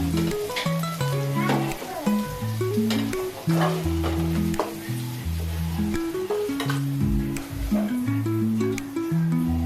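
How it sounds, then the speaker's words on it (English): Beef sizzles and is stirred in a hot pan with soy sauce and onion (bawang besar), a steady frying crackle with scraping, under loud background music. "Stir fry beef with soy sauce and bawang besar"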